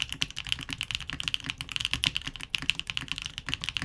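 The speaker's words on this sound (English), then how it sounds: "The FR4 surprisingly kicks up the decibels a bit, accentuating more plasticky and clicky noises." Rapid, steady typing on a Vanguard 65 mechanical keyboard with an FR4 plate, with bright, clicky, slightly plasticky keystrokes close to the mic and a low thump under them, played alone.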